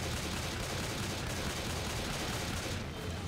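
Pistol fire in Left 4 Dead 2 comes as a dense, continuous burst of shots under loud game noise, with no clear gaps between shots.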